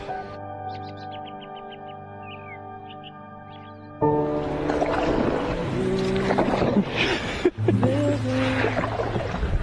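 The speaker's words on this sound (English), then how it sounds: "Just to hear the swish of the paddle. Can you hear that?" A paddle swishing through water beside a wooden canoe, soft splashing strokes heard up close; a calm stretch with birdsong comes first, then the rhythmic water sounds with light knocks against the hull.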